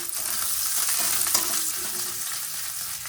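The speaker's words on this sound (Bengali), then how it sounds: "ফোড়নে দিয়ে দেবো তেজপাতা শুকনো লঙ্কা পেঁয়াজ কুচি" Bay leaf, dried chili and chopped onion sizzle loudly in hot oil, a dense steady crackle and hiss that runs through the clip without any talk.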